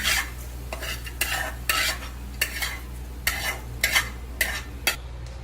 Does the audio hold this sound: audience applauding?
no